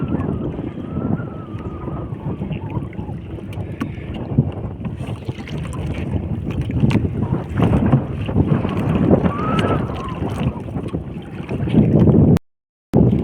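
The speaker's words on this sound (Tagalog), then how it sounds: "Dahil mahangin na rin." Steady wind gusts buffet the microphone outdoors, a constant roaring rush with a low rumble, continuing almost throughout.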